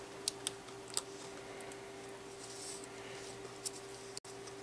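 A small screwdriver pries the clip off a Compaq keyboard key, giving a few sharp, light plastic clicks and ticks over a steady faint electrical hum.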